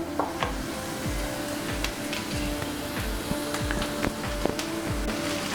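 Ingredients sizzle steadily in a pan for Indian-style white sauce pasta, with soft stirring clicks and scrapes over a constant frying hiss, close and continuous throughout.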